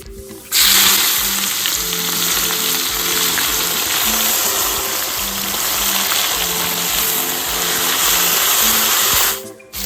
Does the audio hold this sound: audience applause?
no